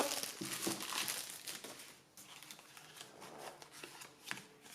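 A new tarot card deck with red-flowered card backs being unwrapped and handled: steady crinkling of wrapping and card shuffling close by, brisk at first and then softer with small scattered rustles, with no talking.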